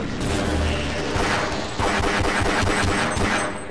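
Rapid SMG gunfire in Half-Life, a loud, continuous burst of automatic shots with dense overlapping reports and faint background noise throughout.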